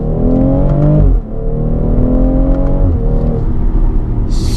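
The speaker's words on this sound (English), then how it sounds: "the shifts are extremely immediate, as you'll see right now" A 2018 BMW X3 M40i in Sport mode accelerates hard, its engine note climbing and then dropping sharply at two quick gear shifts, loud and close from inside the car.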